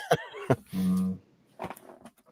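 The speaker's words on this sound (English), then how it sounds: "As I hear my dog Zippy barking out in the garage right now" Dog barking out in a garage, a few sharp barks with one longer whining yelp in the middle, heard at a moderate distance in short bursts.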